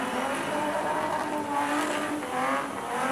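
A Super Stocker race car engine roars continuously while tires squeal and skid in long sweeps doing donuts at Rockhampton Speedway, loud and close, with crowd noise behind.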